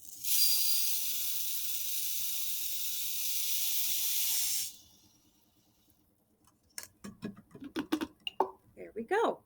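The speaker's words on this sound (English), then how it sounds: "I'm going to pour all of the rice from my cup into this jar" Dry rice grains poured from a cup through a funnel into a jar make a steady, close hiss of streaming grains lasting about five seconds. Quiet follows, then a person speaks.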